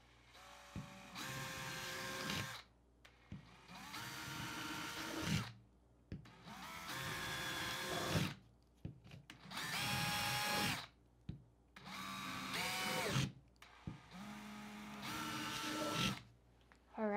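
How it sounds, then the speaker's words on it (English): A small power drill whines in a series of short bursts while drilling drainage holes in the bottom of a dried gourd, starting and stopping repeatedly with brief quiet gaps between, close by. "the next step is to drill holes in the bottom just for some drainage"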